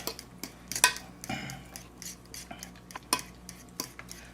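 Metal utensil whipping a seafood dressing stuffing together in a bowl, with quick irregular clinks and scraping strokes, close and fairly quiet, with no talking.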